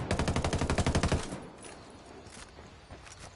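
Rapid automatic gunfire bursts in Ghost Recon Wildlands PvP play, a loud, close string of about a dozen evenly spaced shots that stops abruptly, leaving faint rustling and distant thuds in a quiet background.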